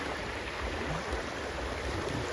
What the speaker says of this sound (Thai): น้ำไหลบางแห่ง